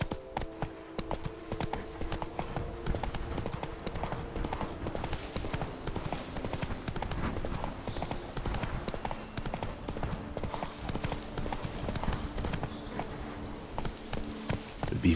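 Roach the horse galloping in The Witcher 3, a rapid continuous clip-clop of hooves with tonal game music layered underneath, steady and moderately loud throughout.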